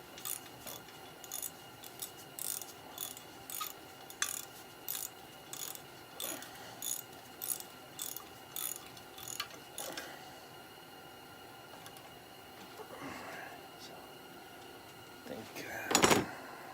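A ratchet wrench clicks in short, regular bursts while fitting an electric starter on a 1959 Gravely tractor, each burst a crisp run of metallic ticks with brief pauses between strokes, followed by a louder clunk near the end.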